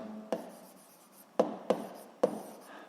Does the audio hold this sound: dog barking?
no